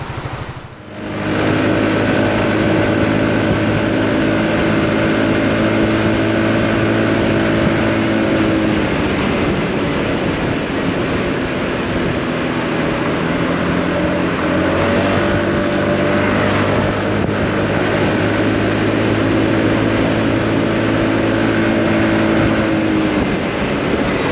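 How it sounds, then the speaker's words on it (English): Honda Forza 350 scooter riding and accelerating, its engine drone loud and continuous with rising and falling pitch and a constant rush of wind. "let's get going and let's see how this little bike rides"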